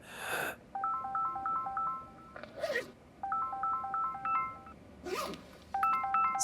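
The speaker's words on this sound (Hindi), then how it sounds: "स्कूल से फोन आ रहा है" A phone rings with a repeating electronic melody in short bursts, interrupted by a few sharp noises between rings.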